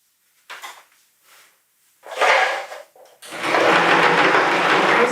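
Sewing machine stitching a short straight seam with backstitching at the edges, for a pin cushion filled with steel wool; brief bursts of stitching, then a longer steady run of motor whirr and needle clatter, close and loud.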